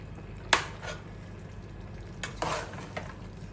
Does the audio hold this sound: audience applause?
no